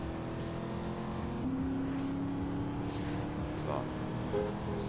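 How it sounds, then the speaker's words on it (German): A car driven in the video game GTA San Andreas hums with a steady, sustained engine drone and slight pitch shifts as it cruises, with a continuous low road rumble underneath. "mit dem Auto kann ich auch fahren"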